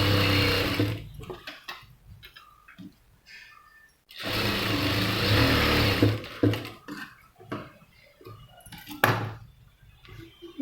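A sewing machine stitches the shoulder seam of a saree blouse in two bursts of steady whirring, with quiet clicks and fabric handling in the pause between them.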